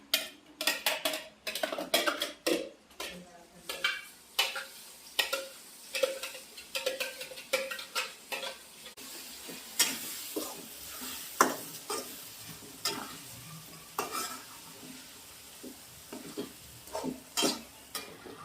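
Ground masala paste sizzles in a pan for a crab dish, with repeated scraping strokes of the stirring spoon over a continuous frying hiss, near and moderately loud.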